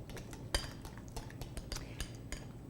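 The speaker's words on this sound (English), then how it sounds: "now I'm going to just whisk up my dressing" Salad dressing being whisked by hand, a cross between ranch and oil-and-vinegar, with quick repeated clinks and taps of a whisk against the bowl at close range, one sharper knock early on.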